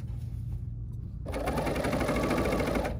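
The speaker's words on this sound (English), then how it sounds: "I'm gonna put my material right under my foot. And now I'm gonna stitch or serge." A Bernina L850 serger stitches fabric along a curve, starting after a brief quiet moment and then running steadily and close at an even, rapid whir for the remaining two seconds.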